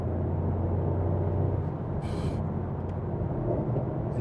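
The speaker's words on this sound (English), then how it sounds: "And at low RPMs, this thing is just so rumbly" Low, steady engine rumble from a 2024 AMG GT idling at low RPM, a continuous deep drone close by with a brief hiss midway and no talking.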